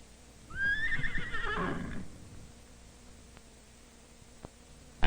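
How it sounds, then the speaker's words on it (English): A horse gives a loud, clear whinny that rises then falls during a riding lesson where horses are put through their gaits, followed by quiet background and a few faint hoof knocks. "First, the horses are put through their gates."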